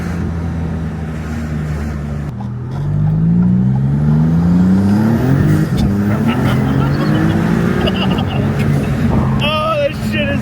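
A Maserati MC20 twin-turbo engine revs up with a rising drone and turbo whoosh, loud and close inside the car, while voices talk over it.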